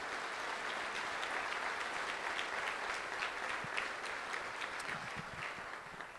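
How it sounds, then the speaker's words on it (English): Audience at an awards luncheon applauding the event sponsors, a continuous dense round of clapping that holds steady throughout and fades slightly at the end. "If you'd all give them a great round of applause for their support"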